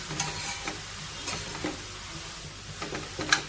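Grated raw papaya cooks and sizzles in a pan while being stirred, a soft steady frying hiss broken by light scraping strokes and small ticks, close and quiet with no talking.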